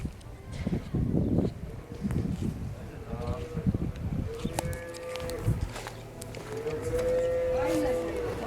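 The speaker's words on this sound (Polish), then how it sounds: "Krowy to dają klimat." Cows mooing outdoors on a farm at Osłonin, with several drawn-out calls rising over steady background noise in the second half while a person talks and moves around nearby.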